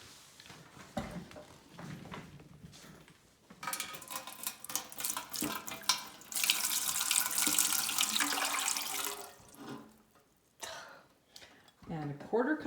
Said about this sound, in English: So we're going to use 1 cup of water,